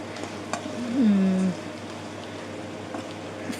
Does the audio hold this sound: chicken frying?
yes